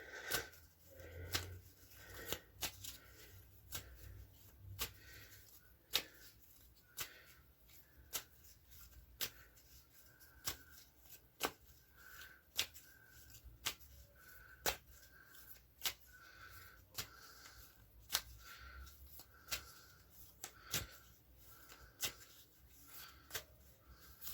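Soft, close shuffling of playing cards for a card reading, with crisp riffling snaps repeating at a steady rhythm of roughly one per second over a quiet room.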